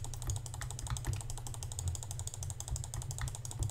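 Rapid, continuous clicking of a computer mouse by a Minecraft player in a PvP fight, a dense stream of light taps heard over a low background hum.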